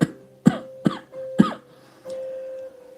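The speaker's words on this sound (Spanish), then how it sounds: "que mi tosecita no me deja" Four sharp, close coughs, the last three spaced about half a second apart, followed by a short throat sound, all alone over a faint steady hum.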